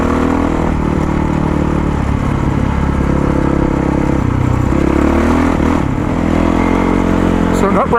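A Yamaha WR450 dirt bike rides through a desert wash, its engine droning loud and steady up close with shifting pitch as the rider works the throttle.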